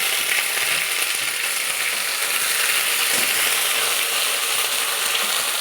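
Ginger, cumin and dried-chilli paste fries in hot oil, giving a steady, close, even sizzle and crackle that holds without a break and with no voices.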